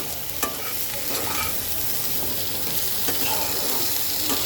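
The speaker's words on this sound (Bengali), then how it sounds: "এইবার সব কিছু আবার মিক্স করব এবার কম আঁচে সুন্দর করে এটাকে কষাবো" Malabar spinach and tengra fish curry with spices is stirred in a pan on low heat. A soft, steady sizzle runs beneath intermittent scraping strokes of the spoon, with a few sharper scrapes standing out.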